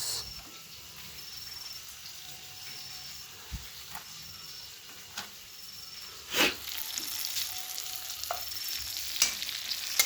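Cumin and turmeric fry quietly in a pan for a vegetable dish made without onion, giving a faint steady sizzle with occasional scrapes and clinks, one sharper knock near the middle, and no talking.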